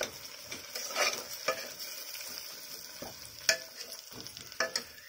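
Tomatoes added to reddened onions fry in a pan for an Odia chicken curry, a quiet sizzle punctuated by repeated spatula stirs and scrapes.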